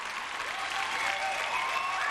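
Audience applause in a theater for a live comedy stage show, a dense, steady wash of clapping that holds at an even level throughout with no voices over it.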